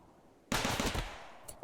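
Turrets open fire in the RimWorld video game, a sudden dense burst of rapid gunfire that starts abruptly and rattles on for about half a second before tapering into quieter, scattered shots.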